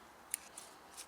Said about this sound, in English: We use our little scissors to trim some of the edges.